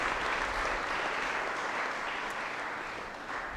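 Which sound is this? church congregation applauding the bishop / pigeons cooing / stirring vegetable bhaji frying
church congregation applauding the bishop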